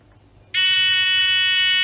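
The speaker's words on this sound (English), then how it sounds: "we can try out the buzzer on this thing" Silence breaks into a sudden, loud, piercing electronic buzz from a supercapacitor-powered buzzer that holds steady and shrill without letup.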